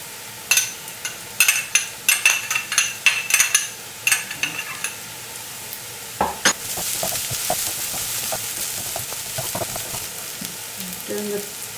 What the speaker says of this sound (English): I'm going to stir fry the onions till they're golden brown.